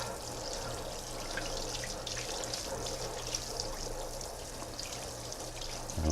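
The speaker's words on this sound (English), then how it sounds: "So the first thing we want to do is give this a good wash." Tap water running steadily into a sink while produce is rinsed, a close continuous splashing flow with little variation throughout, no speech.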